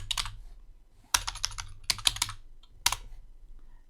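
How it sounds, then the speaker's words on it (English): Keys clatter on a computer keyboard as a title is typed, in several quick bursts of clicks separated by short pauses, close and clear with no talking. "So let's just type that in"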